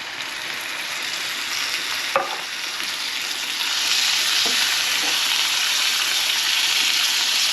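Tomatoes going into a hot frying pan with a loud steady sizzle that swells as they land, plus a few scraping stirs of a utensil, close and continuous with no talking.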